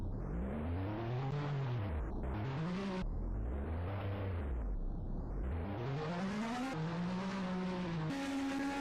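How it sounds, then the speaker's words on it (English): Race car engine in a sim racing video game at a virtual Hockenheimring, loud and continuous, repeatedly revving up and dropping back in sweeping waves as the car attempts burnouts, with no voices. "See him trying to do burnouts"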